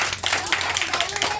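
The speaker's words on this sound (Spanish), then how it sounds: "Un aplauso para todos, por favor." A small group bursts into lively clapping and applause at a Garifuna cooking class, a dense run of claps filling the room with a voice underneath.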